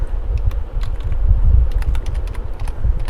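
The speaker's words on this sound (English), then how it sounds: "So let me type here wheel, it's WHEEL" Someone types on a computer keyboard in quick, uneven bursts of clicking keys, close and fairly loud, with no talk over it.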